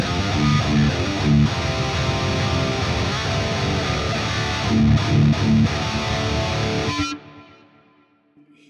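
Electric guitar played through a Quad Cortex with a high gain distorted tone and delay, thick sustained chords and riffs for about seven seconds before cutting off, leaving a fading echo tail.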